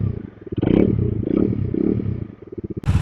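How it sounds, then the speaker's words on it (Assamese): Motorcycle engine at Sela Pass (13,700 ft), finally started in the cold after ten minutes of trying and pushing, with water suspected inside. The engine runs close and loud with a rough, uneven idle pulse and a sharp burst near the end. "প্ৰায় 10 মিনিটমান চেষ্টা কৰাৰ পিছত ইফালে সিফালে ঠেলাৰ পাছত বাইকখন ষ্টাৰ্ট হ'লগৈ"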